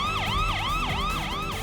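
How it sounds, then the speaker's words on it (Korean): An ambulance siren wails loud and close in a steady repeating rise-and-fall sweep, arriving at a university hospital emergency room, with a low vehicle rumble beneath and no talk. "앰뷸런스."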